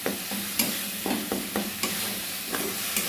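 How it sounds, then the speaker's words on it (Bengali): Boiled potatoes and spice paste stir-fried in a pan, a soft continuous sizzle broken by regular sharp spatula taps and scrapes, close and alone with no voices. "এর মধ্যে আমি মশলা দিয়ে দিলাম এক চামচের মতো মশলাটাকে দিয়ে ভালো করে একটু কষে দিই"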